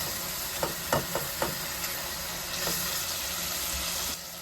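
Chana dal with masala is roasted and stirred in a pan. A few sharp scraping strokes come early, then a steady low sizzle and hiss continue. No one speaks.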